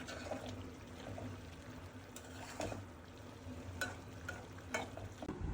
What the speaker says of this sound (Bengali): ছোট মাছের তরকারি তো বেশি নাড়াচাড়া দেওয়া যায় না, তো আমি এই একটা নাড়াই দিব